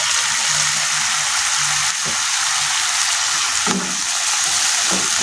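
Bean sprouts dropped into a hot pan for spicy stir-fried sprouts, a loud continuous sizzle with a couple of sharp spatula knocks.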